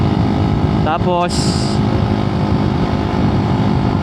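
A Honda Raider motorcycle with a 30mm carburetor and stock canister exhaust idles and runs steadily close by, a continuous loud engine drone beneath someone talking.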